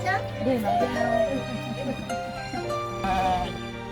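Sheep bleating at a sheep farm in Vietnam, several wavering calls over a steady low drone, with people chatting nearby.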